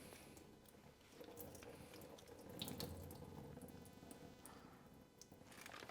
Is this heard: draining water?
yes